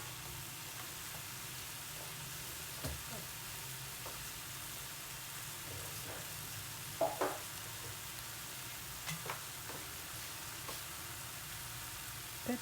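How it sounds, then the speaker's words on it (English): Sponge gourd sizzles and hisses steadily in a pan with a little water, with occasional soft clinks and stirring scrapes over the constant frying noise. "So look at that sizzle."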